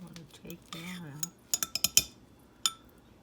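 Clinks and scrapes of a utensil against a dish as jellied canned corned beef is lifted out and dropped into a bowl, with a cluster of sharp taps near the end and a faint voice early on.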